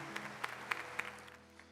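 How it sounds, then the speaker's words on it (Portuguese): Congregation at a Catholic Mass clapping after the Gospel reading, a brief, faint scattering of claps over a low hum of the church space. "Podemos aplaudir a palavra do Senhor que foi proclamada"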